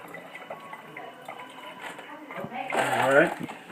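Ice-cold water pours and gurgles into a hookah base, the filling sound swelling louder toward the end, close up and steady.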